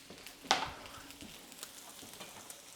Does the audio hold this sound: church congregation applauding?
no